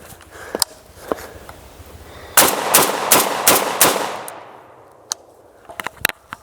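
Rapid bursts of gunfire ring out at an outdoor shooting range right after a switch to a second weapon, several sharp close shots in quick succession, then a pause and a few scattered later shots.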